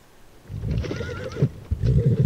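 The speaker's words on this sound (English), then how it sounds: "I turned my head to the front door, hearing another set of horses." Horses arrive at the front door of a house, with a clear whinny and neighing over the thudding clip-clop of hooves, close and fairly loud throughout.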